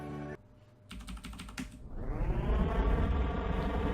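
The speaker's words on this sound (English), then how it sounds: "Forgive my keyboard, it's mighty loud" Loud computer keyboard typing, a quick cluster of sharp clicking keystrokes up close, followed by a rising whoosh that swells into a steady, bright roaring tone to the end.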